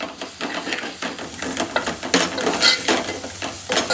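Spice paste being added and stirred into a sizzling pan for Konkani-style clam curry, a busy close-up mix of scraping, scratchy stirring and frying crackle in quick irregular strokes, with no voices.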